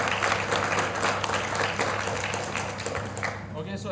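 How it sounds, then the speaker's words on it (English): A conference audience applauds a speaker at a joint T20, B20 and U20 session, steady dense clapping filling the room for about four seconds with a faint voice underneath. "Let's give applause to Prof. Suhono."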